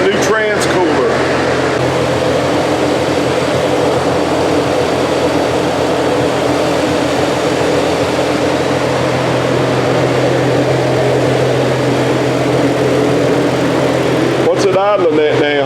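A Ford project car's engine idles steadily with its electric cooling fan running, giving a close, constant droning hum with a low rumble that continues unbroken to a brief clatter near the end.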